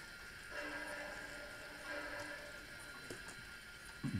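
N gauge model coaches on the Somerset & Dorset Joint Railway layout roll along the track with a faint, steady rumble and light clicking from freshly adjusted axles, closing with a few small knocks.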